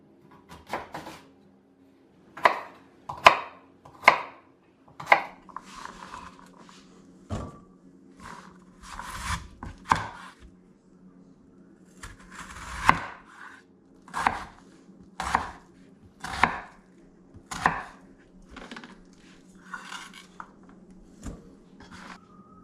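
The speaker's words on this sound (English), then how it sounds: "Clean and chunk the potatoes and yam." A knife chops potatoes and yam into chunks for a tajine, landing as sharp, irregular thuds on a board that come in short bursts with brief pauses, close and fairly loud over a faint steady hum.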